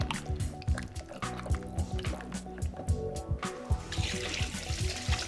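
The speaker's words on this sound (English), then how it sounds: "Just gonna stir them in." Clams are stirred into a pot of clam chowder, with wet sloshing and clinking spoon strokes against the pot in an uneven rhythm close by, plus some liquid splashing near the end.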